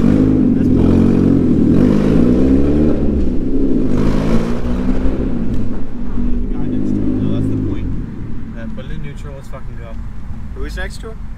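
A 2016 Chevy Cruze with an aftermarket exhaust revs loudly and steadily, its engine note rising and falling close by for most of the stretch before easing off, with voices talking over it throughout.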